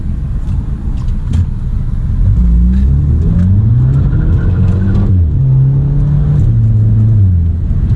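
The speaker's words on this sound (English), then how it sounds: "You can see a couple downshifts, and it's fun. It'll definitely get the tires loose." A close 2008 Audi A3 engine revs hard, its pitch climbing and dropping through several quick dual-clutch downshifts, loud and continuous with no talking.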